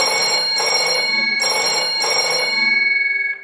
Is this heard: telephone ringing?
yes